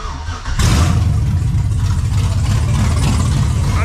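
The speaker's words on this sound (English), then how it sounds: "You know, the old open headers" After a brief quieter moment, a loud, rough LS V8 engine in a Ford LTD Crown Victoria roars up through open headers and holds a raw, throaty rumble close by for several seconds.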